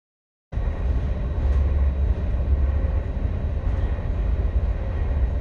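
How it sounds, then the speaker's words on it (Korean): A commuter train in Germany rumbles steadily from inside the carriage, a dense, loud, even roar of wheels and motion that begins abruptly and continues without a break or any voices. "기차 타고 한 20분 정도 책 읽다 보면 어느새 기차가 내가 내려야 할 역에 도착해 있다."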